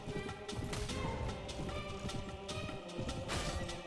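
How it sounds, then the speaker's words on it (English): Cavalry horses charging in the medieval battle game Return to Pendor, a steady rumble of many hoofbeats drumming close by, with clattering impacts mixed in. "Tell my cavalry to charge in as well."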